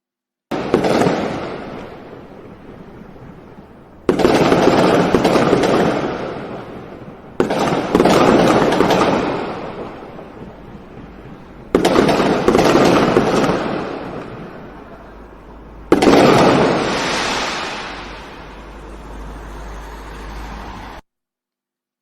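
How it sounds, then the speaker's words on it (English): Fireworks burst five times in a row, each a loud bang trailing into crackling and rumbling decay, separated by brief pauses. "it is a sound we could hear when the firework is going on"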